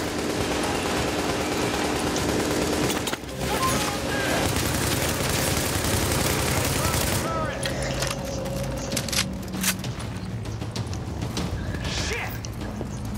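Sustained bursts of gunfire in Tom Clancy's The Division rattle continuously under game noise and a talking voice, with a brief dip before the shooting resumes.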